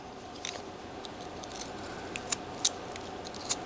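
A carving knife shaves small cuts into wood, giving faint scraping and several sharp little clicks at uneven intervals, close up over a quiet background.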